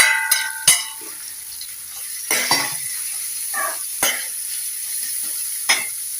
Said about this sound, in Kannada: ಇವಾಗ ಆಲೂಗಡ್ಡೆ ಬೇಯಿಸಿ ಇಟ್ಕೊತೇವಲ್ಲ, ಇನ್ನು ಹಾಕ್ಬೇಕಾಗುತ್ತೆ.